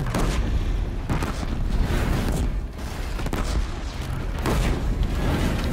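Bomb blasts in Horizon Zero Dawn combat against heavy machines, several loud booming explosions with rumbling tails recurring through a dense, noisy fight.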